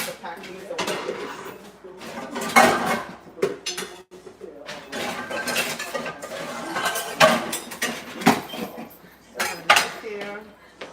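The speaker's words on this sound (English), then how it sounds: "So these are dishes that she just washed out for me. You have to pack these away." Freshly washed dishes, pots and cutlery clink and clatter in a kitchen as they are packed away, with repeated close bursts of rattling and chinking while people talk.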